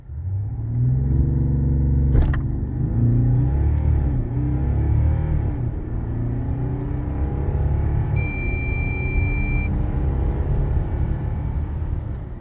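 A BMW 740d xDrive G70 with a 3.0 inline-six diesel accelerates hard from standstill in a 0-100 run on a wet road, a loud steady engine drone rising through the gears, heard from inside the cabin with a brief chime partway.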